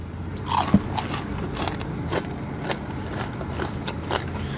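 Crisp crunching bites into Arby's fried mac and cheese bites, close up, with steady chewing crunches following in a loose rhythm.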